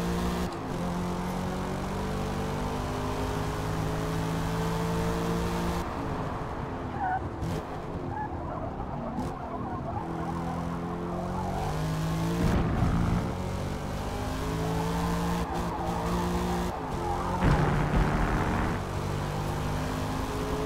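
A Camaro ZL1 and a Corvette race in Forza Motorsport, their engines whining and rising through gears in repeated upward sweeps and revving steadily throughout.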